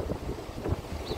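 Wind buffets the microphone at a small hidden beach near Atalaia, a low rumbling, gusty roar with uneven pulses throughout, no voices heard.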